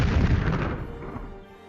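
A deep booming explosion in the Kingdom Hearts video game as Ralph destroys the boss Marshmallow, loud at first with a rumbling tail that fades away over a second or so.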